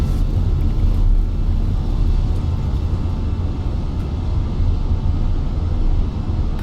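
Condor Airbus A320 at full takeoff thrust, rolling down the runway and rotating, a steady loud broadband engine roar with deep rumble heard from inside the cabin throughout.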